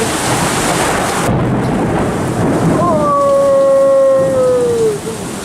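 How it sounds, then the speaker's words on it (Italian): A heavy thunderstorm on the night before the Sardinia disaster, loud rain hissing continuously with deep thunder rumbling beneath and a thin wavering whistle rising midway. "Guardate che tempesta ragazzi!"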